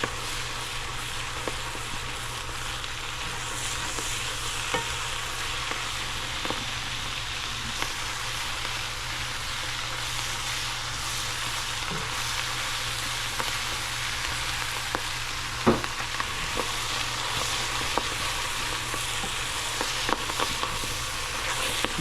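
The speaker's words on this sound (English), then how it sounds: "I'm just stirring it because I don't want that garlic to burn." Garlic butter sizzles steadily in a pan with wilting greens as it is stirred, a constant close frying hiss with faint scraping and clicks of the utensil throughout.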